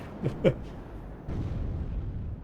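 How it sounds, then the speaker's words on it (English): In the video game WARNO, two sharp explosive blasts go off in quick succession near the start, then a lower, sustained rumble of distant artillery fire rolls on to the end. "It's a nice big explosion from the fob, can be seen from outer space."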